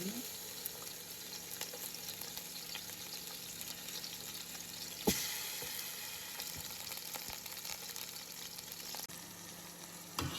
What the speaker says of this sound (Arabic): هذه هنا أول شغلة أسويها أحمي الدهن. تمام، وعندي هذا الدجاج أخليه.